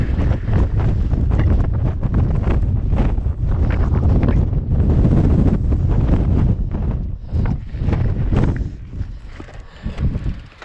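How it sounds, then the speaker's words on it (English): Strong wind buffets the microphone up on a high mountain bike trail in Del Norte, Colorado, a loud continuous roar that eases and gusts again toward the end. "It's kind of windy up here."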